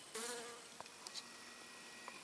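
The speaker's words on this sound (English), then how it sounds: "A bee just came and landed on my hand." A bee buzzes close by near a hand outdoors, a short loud drone near the start followed by a few faint passing buzzes against quiet background.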